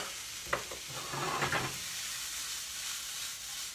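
About three cloves of garlic sizzle in a frying pan with a steady soft hiss, a few stirring scrapes and clinks near the start, then continuous gentle frying.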